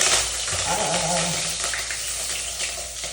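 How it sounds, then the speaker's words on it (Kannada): Onions and green chillies fry in hot oil in a home kitchen pan, giving a steady, close sizzle that runs the whole time, with a brief tonal squeal early on. "ಚೆನ್ನಾಗಿ ಫ್ರೈ ಮಾಡ್ಕೋಬೇಕು ಈರುಳ್ಳಿ ಮತ್ತು ಮೆಣಸಿನ್ಕಾಯಿ"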